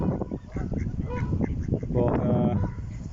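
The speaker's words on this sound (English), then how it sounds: "Out there, the Canada geese." Canada geese honk repeatedly at a bird sanctuary, a cluster of nearby, fairly loud calls overlapping in irregular bursts, with a voice speaking amid the flock.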